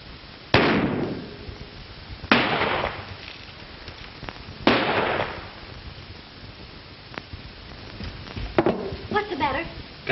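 Gunshots in a 1933 western film crack out as three sharp, loud reports spaced about two seconds apart over a faint background, followed by smaller clicks and rattles.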